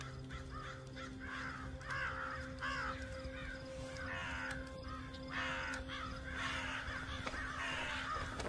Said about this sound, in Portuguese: O que que deu nesses corvos?